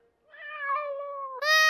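A cartoon cat gives a drawn-out meow that rises at the end into a brighter, louder cry, heard alone and close in a children's animated show.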